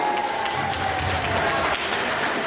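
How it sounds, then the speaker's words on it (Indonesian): Lively audience applause fills a gathering of a clan association near Jakarta, dense steady clapping from a crowd, close and continuous throughout. "tepuk tangan yang meriah"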